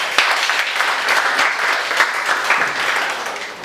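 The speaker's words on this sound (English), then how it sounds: "Can we, the ladies, clap for Achol?" Audience of women clapping at a gathering at Makerere University's Senate Building, a dense, sustained burst of applause from many hands, close and loud throughout.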